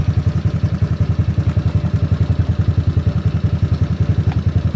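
An SSR Interceptor 150 scooter, a ZNEN ZN150T-9, idles steadily at close range, its small single-cylinder engine putting out an even, rapid thudding pulse with no voices over it.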